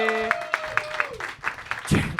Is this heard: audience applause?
yes